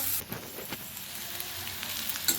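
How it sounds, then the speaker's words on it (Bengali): Onion fries in a pan for egg bhujia, a short, close, steady sizzle with a few soft clicks of stirring. "এখানে পেঁয়াজটা প্রায় ভাজা ভাজা হয়ে এসেছে"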